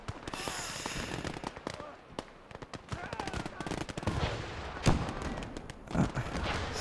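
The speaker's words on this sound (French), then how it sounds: "Ça tire au RPG sur les fortifications des ingénieurs." Battle sounds in the Gate of Hell PvP game, dense bursts of machine gun fire mixed with RPG and Panzerfaust blasts hitting fortifications, continuous rattling with heavier booms, under commentators talking.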